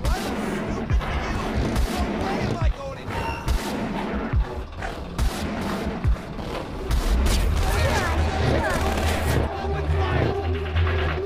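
Enemy gunfire in the stealth action game Splinter Cell: Conviction, dense overlapping bursts and shots with heavy low booms, loud and continuous throughout, with a voice talking over the game sounds.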